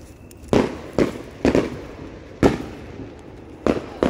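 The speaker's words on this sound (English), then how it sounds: "There's some fireworks out there." Fourth of July fireworks burst outdoors, six or so sharp, separate booms spaced irregularly over a quiet background, each with a short rumbling tail.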